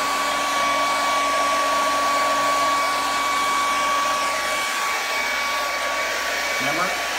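A handheld hair dryer blows steadily at close range while drying hair, a loud continuous whooshing roar with a faint tonal whine that barely changes from start to finish.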